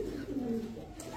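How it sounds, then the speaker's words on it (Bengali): A large female Afsan grizzle racing pigeon with pomegranate-coloured eyes coos close by, giving one smooth, throaty coo that slides down in pitch. "আনার চোখের আফসান গ্রিজেল রেসার একটা মাদি কবুতর"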